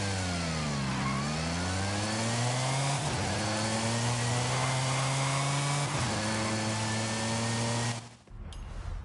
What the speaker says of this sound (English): A supercharged ice setter with grippy tyres.